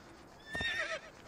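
A horse in the video game Assassin's Creed II whinnies briefly and shrilly, close by, with a soft hoof thud mixed in over quiet background.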